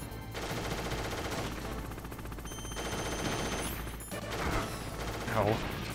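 Gunfire in Metal Gear Solid rains on the player: loud, continuous machine-gun bursts and shots under game music, ending in a few ricochet-like whines.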